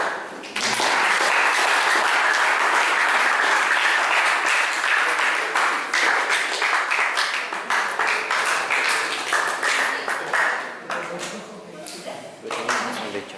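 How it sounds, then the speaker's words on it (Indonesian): Audience applause after an agricultural event session on fertilizer comparison, sustained dense clapping throughout, loud and continuous with slight fading toward the end, no speech over it. "Mari kita berikan tepuk tangan yang lain."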